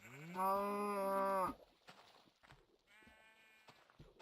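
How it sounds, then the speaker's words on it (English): A cow in a Minecraft-style video game lets out one loud, close moo lasting about a second, followed by a fainter second moo among quiet shuffling game sounds. "I know not to hit that cow."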